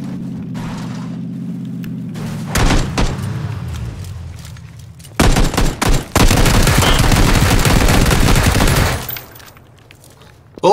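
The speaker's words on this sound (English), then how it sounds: "Bullets go everywhere." Bursts of rapid gunfire from PlayerUnknown's Battlegrounds, loud overlapping volleys with mechanical clatter, broken by brief pauses and a low hum.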